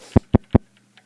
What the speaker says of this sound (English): Let's begin by loading a single cycle waveform into a flex machine on track 1.